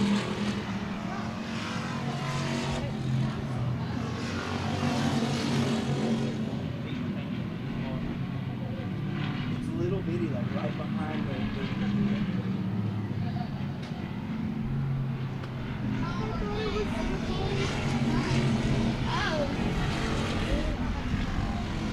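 Race cars lapping at Cotton Bowl Speedway, a continuous engine drone droning down the front stretch toward turn one, steady and moderately distant, under a commentator's voice.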